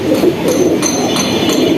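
High-flying pigeon at a home loft making soft, steady cooing under a continuous low hum, with faint bird calls higher up throughout.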